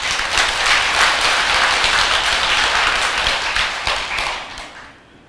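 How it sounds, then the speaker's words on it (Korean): A hall audience at a Buddhist dharma talk in a Seoul temple applauds loudly and steadily, the crowd's clapping swelling at once and then tapering away over the last second. "크게 한번 박수 한번 보내드리세요"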